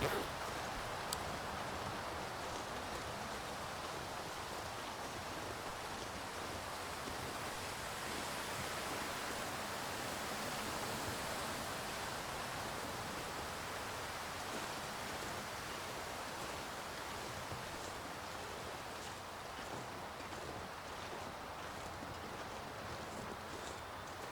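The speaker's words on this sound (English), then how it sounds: "And the wind, of course, blowing right in our face." Steady, rushing wind blows continuously in The Long Dark, a broad hissing roar with no breaks or gusts standing out.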